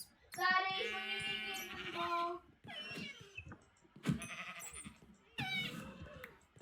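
Sheep in the Minecraft video game bleat in several short, wavering calls separated by brief pauses, moderately loud against a quiet background.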